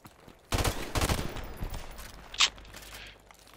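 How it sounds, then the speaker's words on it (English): Gunfire in a shooter video game, a few quick bursts of shots at moderate distance followed by a sharp single crack, with faint footsteps in between. "Just getting shot at, I don't know what's happening."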